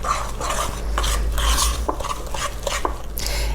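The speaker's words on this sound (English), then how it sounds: "And now I am going to mix it all up" Peanut butter cookie dough with vanilla is mixed by hand in a bowl. A spoon scrapes and thumps in a loose, uneven rhythm, up close over a low steady hum.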